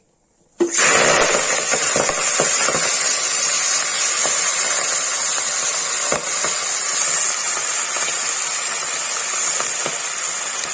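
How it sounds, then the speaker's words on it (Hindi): Chopped kohlrabi dropped into hot oil for Kashmiri-style monji haakh, bursting into a loud, steady sizzle that starts abruptly and hisses continuously with small crackles. "ये तेल गर्म हो गया है, इसे डालेंगे गाढ़ गोभी।"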